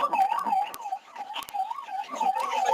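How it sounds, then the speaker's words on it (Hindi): An air raid warning siren during a blackout mock drill in Uttar Pradesh, India, rises and falls in steady, repeating sweeps, loud and continuous, with a few sharp clicks over it. "अचानक अंधेरा छा गया और सायरन बजने लगा।"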